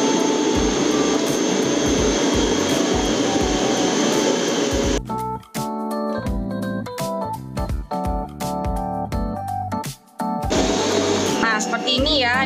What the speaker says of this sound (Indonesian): Ini kita kocok dulu.